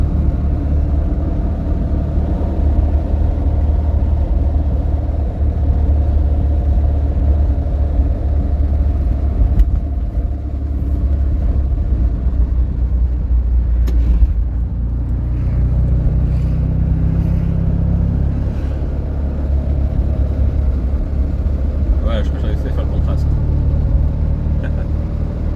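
A 1971 Fiat 500 drives along small winding coastal roads, its engine a steady loud rumble with a brief shift in tone midway and faint wind noise throughout.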